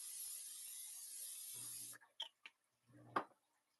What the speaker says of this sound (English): Let me spray my pan.